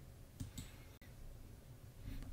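A single sharp mouse click lands on a computer icon while switching to a video capture card, standing alone against a quiet room hum with a couple of faint rustles before it.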